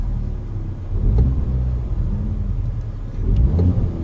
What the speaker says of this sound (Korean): 엑셀 한번 밟아 보시면